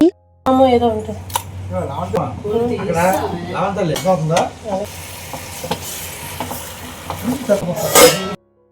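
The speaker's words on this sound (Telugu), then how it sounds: "చికెన్ యాడ్ చేసి అంతా కలిసేటట్టు మిక్స్ చేసుకొని ఒక్క ఫైవ్ మినిట్స్ మూత పెట్టి లో లో కుక్ చేసుకోవాలి" Chicken with spices is stirred and fried in a pan at home, with loud sizzling and metal utensils scraping against the cookware, and someone talks over it.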